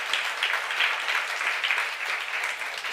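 A church youth-service congregation claps in praise during a sermon, a dense, steady wash of applause that holds at an even level throughout.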